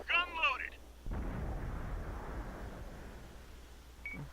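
Artillery gun in a tank video game fires a single loud, booming shot, followed by a long rumbling decay; a brief voice and a beep come before it, and a faint electronic tone follows.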